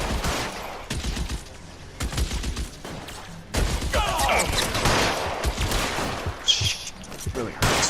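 Gunfire in the crime video game L.A. Noire, rapid bursts of shots and fusillades crackling throughout, loud and close, with a voice talking over parts of it.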